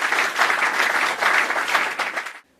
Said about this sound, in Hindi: ताली बजा के हम उनका स्वागत करते हैं।